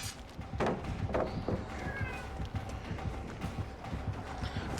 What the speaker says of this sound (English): The cat again. It's very loud.